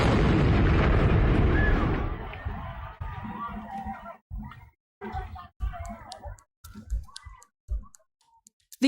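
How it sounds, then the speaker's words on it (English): A homemade pipe bomb packed with nails and screws explodes in a film scene, a loud sustained roaring blast for about two seconds that decays into rumble and scattered clatter and debris sounds. "The explosion was deafening."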